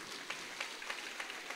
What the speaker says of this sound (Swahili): Tupigie Bishop makofi.